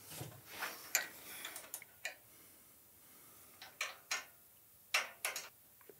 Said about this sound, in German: Einer, der die Mutter an sich, die Schraube an sich, hält, und der andere, mit dem ich die Kontermutter anziehen kann.